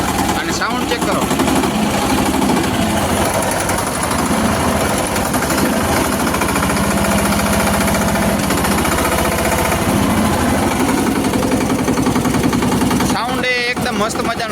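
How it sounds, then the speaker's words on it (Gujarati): A New Holland Simba 20 tractor's 18 HP Lister-type engine runs steadily at close range with a loud, continuous knocking 'tuk-tuk' throb, ending in a brief sharp burst near the end. "લિસ્ટર ટાઈપના એન્જિનમાં હોય ને ટક ટક ટક ટક ટક ટક એ ટાઈપનો સાઉન્ડ આવે એન્જિનમાં"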